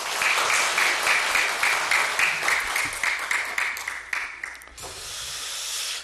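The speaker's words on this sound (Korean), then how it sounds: "박수로 안내하겠습니다." Congregation applause as the pastor comes forward at a church Easter thanksgiving service, steady, loud clapping from many hands with a faint tone running beneath, ending abruptly and leaving a hissing room noise.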